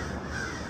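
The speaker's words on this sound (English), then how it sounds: "There's a bunch of crows crowing." A flock of crows caws outdoors in a single brief, faint call against steady background noise.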